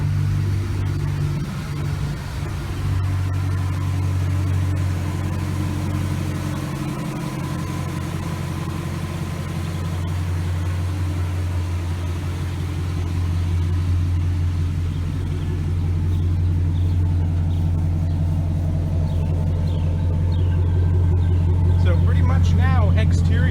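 A 2006 Chevrolet Silverado truck engine idles with a steady low rumble throughout, while a voice talks over it.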